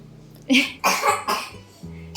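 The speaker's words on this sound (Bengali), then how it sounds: "খুব কাশি হয়ে গেছে" Three or four harsh coughs in quick succession, close and loud, separated by short pauses.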